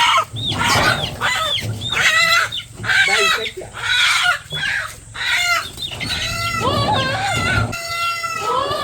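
Chickens cluck and squawk agitatedly at close range, a busy run of sharp, varied calls with scuffling in the background.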